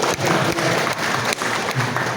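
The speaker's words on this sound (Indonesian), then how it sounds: "Boleh tepuk tangan untuk Pak Habib." An audience claps in applause for Pak Habib, a four-term DPD RI member, at an MPR RI gathering, a dense steady patter of many hands filling the moment with a few brief dips.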